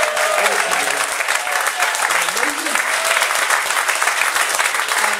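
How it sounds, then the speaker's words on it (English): A live audience at a comedy show applauds the ten performers, a dense, steady wash of clapping at full volume throughout, with some crowd voices and a faint tonal murmur mixed in. "Can we have a round of applause for all 10 of you?"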